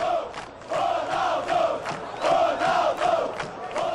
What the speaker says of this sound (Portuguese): A torcida gritou o nome dele e gostou da estreia.